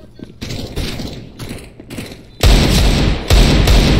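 Rapid bursts of gunfire in PUBG Mobile, loud and dense, with a heavier, louder volley in the second half over steady game noise.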